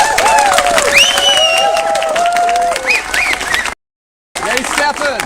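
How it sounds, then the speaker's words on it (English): An audience at a British Columbia citizens' meeting claps for a speaker, with whoops and voices rising over the applause. The sound cuts out briefly, then the clapping and chatter resume. "Round of applause."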